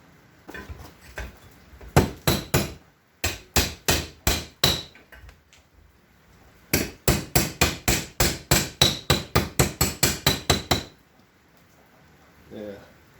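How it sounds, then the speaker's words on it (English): A bent metal radiator bushing from a John Deere 420C is straightened on an anvil with sharp, ringing hammer blows in two long rhythmic bursts separated by a pause, loud and close, with a voice speaking faintly between strikes. "So we'll just straighten it back up on the anvil."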